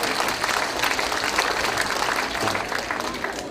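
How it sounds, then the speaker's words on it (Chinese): Audience clapping at an Amis church hymn showcase held by a Presbyterian church in Taiwan, a steady, dense wash of applause from a full hall lasting the whole stretch without a break. "给我一点掌声嘛！"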